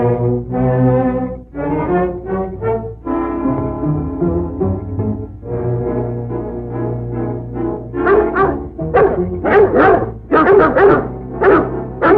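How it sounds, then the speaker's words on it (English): Several dogs barking and yelping repeatedly at close range, a continuous, excited chorus that grows busier and louder toward the end, with no talk over it. "Hear those dogs?"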